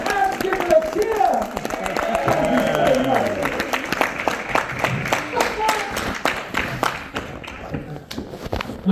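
An audience applauds and cheers, a burst of clapping and whoops that gradually thins into scattered claps, with a voice talking over it near the start.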